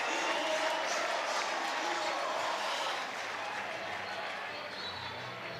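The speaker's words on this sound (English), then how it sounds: "Fans with a clap." College baseball fans in the stands at an Ole Miss versus Alabama game clap steadily as a dense, even wash of applause, moderately distant and slowly fading over a few seconds.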